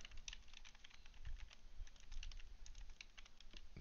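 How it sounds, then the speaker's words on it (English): Rapid, uneven keystrokes on a computer keyboard clatter quietly and continuously, close by and with no voices. "Typing would be very useful here."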